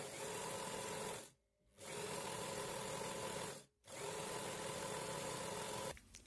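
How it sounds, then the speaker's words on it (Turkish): Sewing machine running a straight side seam on a ruffled dress with an elastic-waist skirt: a steady, close mechanical whir that stops briefly twice before carrying on. "parçanın yanını birleştirerek düz bir şekilde dikiyorum"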